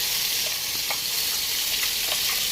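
A ground spice paste of cumin and other spices hits hot oil for a village-style ber and potato curry, giving a loud, dense sizzle that stays constant and close with no talking.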